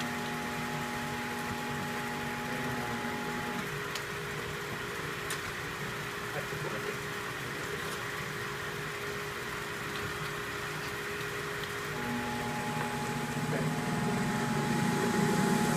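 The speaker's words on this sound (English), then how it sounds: "And if I turn the pump on, hopefully it will start today." A fluid distribution unit's pump runs with a steady mechanical drone and tonal hum, holding evenly throughout and rising slightly near the end, with a few faint clicks.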